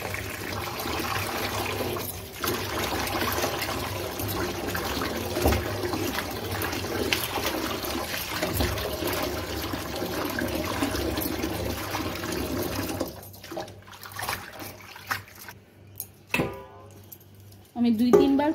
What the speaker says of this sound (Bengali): আমি 2-3 বার করে পাতাগুলো ভালো করে ধুয়ে নিয়েছি।